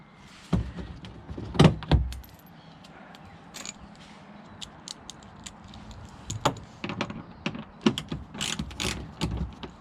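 A socket ratchet works loose the rear bumper fasteners on a BMW E60, sounding as close, bursty clicking and ratcheting bursts with metallic rattles and pauses between runs.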